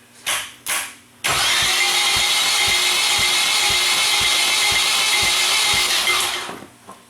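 A Nissan Sentra engine cranks steadily on the starter for about five seconds during a cylinder compression test, loud and close with an even rhythmic chug and no catch, after a couple of short bursts.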